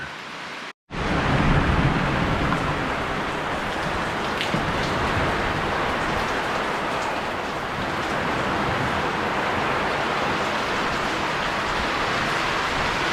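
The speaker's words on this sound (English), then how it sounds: "We've been sitting in here hoping that the rain would pass, and it's just getting worse as the day goes by" Heavy rain with gusting wind at a house build site of SIPs panels, a loud steady wash of downpour on plastic sheeting and surfaces, nearly unbroken apart from a brief drop at the start.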